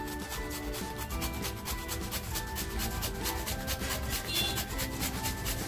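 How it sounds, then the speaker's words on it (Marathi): Raw green mango is grated by hand in a home kitchen, making a steady, rhythmic rasping scrape that runs without a break, close and fairly quiet. "मार्केटमध्ये मला कैरी मिळाली तर थोडी कैरी किसून टाकते"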